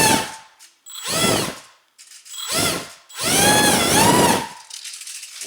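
A 28mm electric ducted fan jet motor on a UMX MiG-15 model spun up in bursts, high-pitched whining rushes that rise and fall, four or five short throttle pulses with brief pauses between, close and loud.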